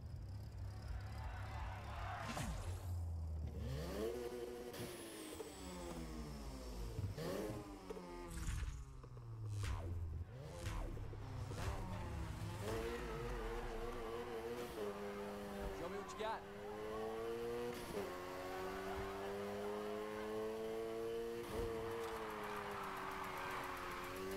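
In the video game Need for Speed Heat, a car accelerates and drifts, its engine revving and shifting up and down through rising pitches with tire squeal, while a voice talks over it.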